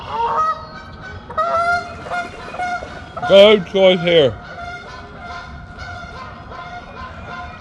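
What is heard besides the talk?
geese honking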